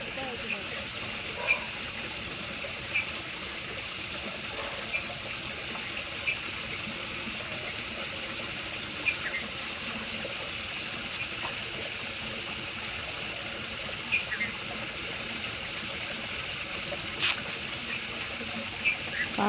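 Irrigation water flows steadily through a spinach farm field, a continuous soft trickling wash with occasional faint clicks and knocks, and no voices over it.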